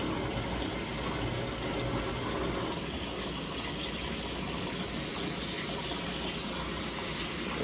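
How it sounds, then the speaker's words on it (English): An LG washing machine fills with water, producing a steady, continuous rush of flowing water with a low hum underneath, unbroken throughout. "once it's going to fill up the water, and I'll show you how it's getting drained."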